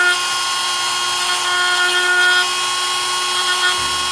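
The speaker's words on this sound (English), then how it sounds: "this is an excellent solution for taking the heads off of the rivet" Small carbide-bit power tool grinds the heads off rivets on a die-cast Dinky De Tomaso Mangusta model car, giving a steady, close, high-pitched whine that holds throughout with slight changes in load.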